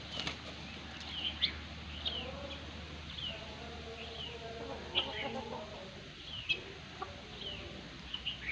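Guinea fowl call in a farmyard, repeated harsh metallic chirps and cackles heard faintly at a distance over a low background hum, with a few sharper calls standing out.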